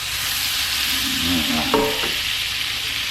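Butter sizzles loudly and steadily in a 12-inch Lebof five-ply stainless steel pan, a dense close hiss throughout with a faint voice briefly under it.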